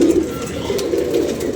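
Pigeons coo steadily and close by during a session of pigeon flying, a soft continuous throaty murmur with no voices over it.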